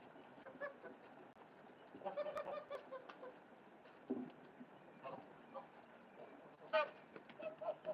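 Geese honk in a farmyard among chickens, with scattered, fairly faint calls and clucks over a steady background, rising into a brief louder burst near the end.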